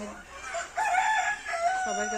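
A native deshi hen gives a drawn-out, rising cackle up close, fairly clear against quiet background.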